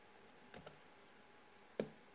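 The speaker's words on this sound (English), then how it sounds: "So you type in the VIN number" A few soft keyboard keystrokes as a VIN is entered into a GM Tech 2 setup, heard as two quick clicks followed by one sharper tap in a quiet room.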